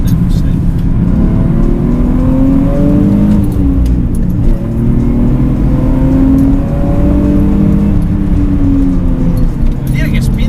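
A Nissan 350Z V6 fitted with a full Borla exhaust system revs loudly and close by in several rising and falling sweeps. Someone talks over it throughout.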